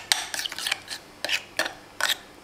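Mayonnaise being stirred with Maggi curry noodle seasoning, giving a few short scraping clinks of utensil against a bowl, spaced irregularly and fairly close.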